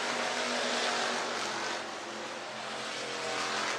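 IMCA race cars in a heat race at Kossuth County Speedway in Algona, Iowa roar past under throttle, a loud broad engine drone that dips briefly and then swells again as they accelerate down the straightaway.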